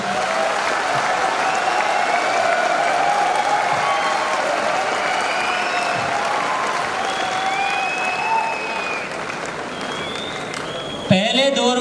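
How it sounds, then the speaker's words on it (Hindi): A large crowd at an RCM anniversary event in Delhi applauds in a long, steady roar of clapping with scattered cheers, ending abruptly with a loud bump. "आप इसके लिए जी भर के तालियां बजा सकते हैं"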